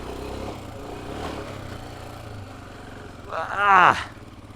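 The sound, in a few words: Royal Enfield Himalayan motorcycle riding through sand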